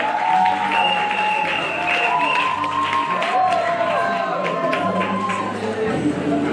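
An audience at an award ceremony applauds in a steady wash of clapping and crowd noise, with voices and tonal sounds ringing over it throughout.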